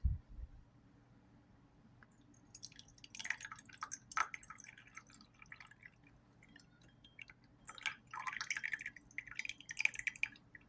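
Tea pours and drips in quiet, irregular trickles, starting and stopping in short bursts, close by with no talking.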